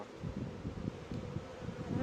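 A dense, steady hum of many honeybees buzzing together at a hive, low and continuous, with no voices.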